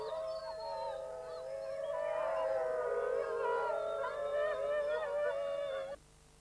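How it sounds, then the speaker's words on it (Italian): Several drawn-out wolf pack howls overlap in a chorus, layered wavering tones swelling together for about six seconds before cutting off abruptly. "A questo primo ululato rispondono gli altri membri del branco."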